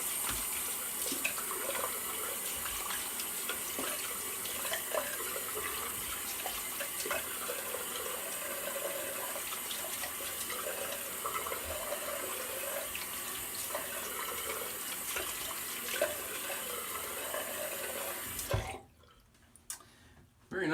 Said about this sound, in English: We're going to go into the rinse and we're going to check the post shave on this.